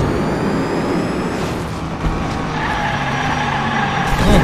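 Race cars in the Hot Wheels Unleashed video game roar and skid, engine whine and tire squeal rising and shifting over a dense, loud, continuous game soundscape, with no voice over it.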